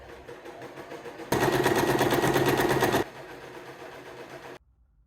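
A sewing machine stitches folded fabric for a purse strap: a low motor hum, then a loud, rapid, close chatter of stitching lasting under two seconds, then hum again before it stops.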